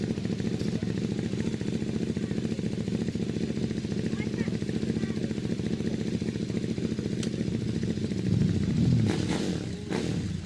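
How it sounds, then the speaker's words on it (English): A big KTM motorcycle engine barks and accelerates off the line on a Prescott hillclimb run, a rapid rattling roar that swells near the end, with a commentator talking over it. "Nice boom from the big KTM engine."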